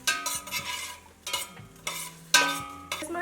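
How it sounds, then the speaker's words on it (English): A collard greens base being stirred and sautéed in a pot, bursts of spoon scraping and clattering against the pot in an uneven rhythm over a light sizzle, close and without talk. "You're going to let that simmer and stir and saute that a little bit."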